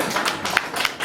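Congregation clapping in a church during a Sunday sermon, a brief burst of dense, fairly soft applause with a few sharper individual claps.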